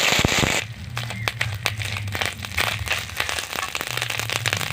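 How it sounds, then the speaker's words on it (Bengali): Spices, bay leaf and dried chilli crackle in hot oil, a dense burst of close popping and spitting that runs steadily throughout, with a faint talking voice underneath. "দিয়ে দেবো ফোড়ন, তেজপাতা, শুকনো লঙ্কা, দিয়ে দেবো আদা বাটা"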